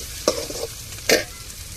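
Ginger and garlic sautéing in a pan, a soft continuous sizzle broken by two distinct scraping stirs of a spoon, close and fairly quiet.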